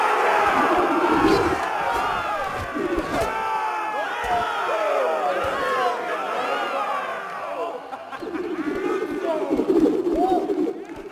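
An arena crowd in the Game of Thrones Telltale video game roars and cheers with battle-cry shouts, a dense, loud wall of voices that swells and surges throughout.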